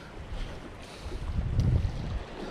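Gusty wind blows across the mic beside a creek during bank fishing for catfish, a low rumbling roar that swells and builds louder toward the end, with no talking.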